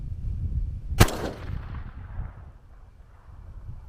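A single sharp rifle shot from a 22 DPC cartridge, fired at a 1,000-yard target outdoors, cracks once loudly and rolls off in a fading echo over quiet background noise.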